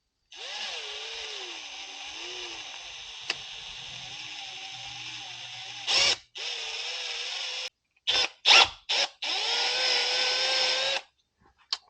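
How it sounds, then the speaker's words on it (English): A power drill whines at a steady high pitch as it bites into metal on a 1966 Harley-Davidson FL Shovelhead, stopping briefly and restarting in several short bursts before a final long run. "we'll go ahead and continue drilling"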